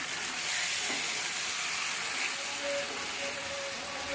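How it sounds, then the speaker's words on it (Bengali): Softened onions sizzling in a pan for a Bengali mutton curry, stirred after sitting covered for five minutes: a steady, close crackling fry with faint scraping from the stirring and no voices. "ভালো করে নাড়িয়ে দিচ্ছি দেখুন পেঁয়াজটা অনেকটা নরম হয়ে গেছে"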